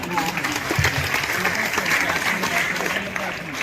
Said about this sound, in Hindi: इन बच्चों के लिए एक मरतबा जोरदार तालियां